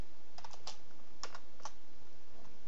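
Keys clack on a computer keyboard in a few quick bursts of clustered taps separated by short pauses, close and crisp against a quiet room.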